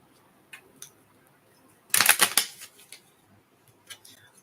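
A deck of cards is shuffled close by in one quick riffling burst of papery flutter lasting about half a second, with a few faint taps and handling sounds before and after.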